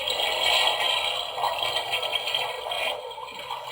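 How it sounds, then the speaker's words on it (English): Realistic 2-in-1 toddler potty with a built-in flush effect, giving a steady hissing, rushing water-like whoosh for several seconds at moderate loudness, with no talk over it. "It has a little flush."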